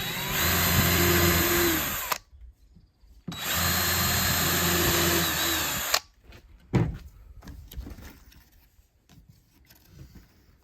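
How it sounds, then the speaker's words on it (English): A power drill bores two pilot holes in wood for a DIY nesting box, two steady, close whirring runs of about two seconds each, followed by clattering handling noises. "Drill 2 pilot holes."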